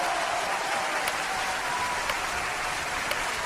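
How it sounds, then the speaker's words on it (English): Steady, dense applause from a large crowd, loud and continuous throughout with no pauses. "Round of applause, everybody."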